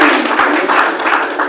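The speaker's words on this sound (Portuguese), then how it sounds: "Salvas de palmas" A church crowd applauds steadily with dense, even clapping throughout, loud and close, without any pause.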